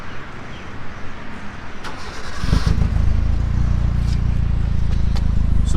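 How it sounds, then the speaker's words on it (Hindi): A modified Maruti Swift starts after a quiet stretch, the engine catching at about two and a half seconds and settling into a loud, deep, rumbling idle through the aftermarket exhaust, close and steady. "I'll start the car right now and give you a small quick look of how the"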